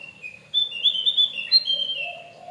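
A Javan white-eye (opior jawa) sings a loud, close run of bright, high whistled chirps that starts after a short quiet pause and continues unbroken to the end.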